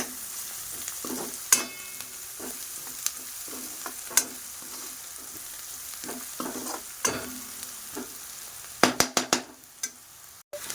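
Garlic paste sautéing in a pan for pav bhaji, with soft sizzling under repeated scraping stirs of a spoon and a few sharper clanks near the end; no talking.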